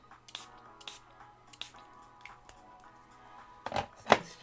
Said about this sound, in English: Let's spray these on the palette, because these are actually the right colours.